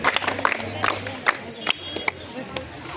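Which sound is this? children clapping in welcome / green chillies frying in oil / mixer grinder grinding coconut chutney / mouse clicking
children clapping in welcome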